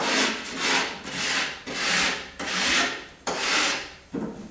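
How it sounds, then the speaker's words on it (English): A hand rasp is drawn along the cut edge of a drywall panel in five rough scraping strokes, each a broad rasping swell that fades before the next pass, close and fairly loud with no talk. "we're going to use a rasp and just run it up the edge of the drywall"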